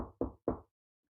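Two sharp knocks on a door, close and distinct, spaced about a quarter second apart, followed by silence.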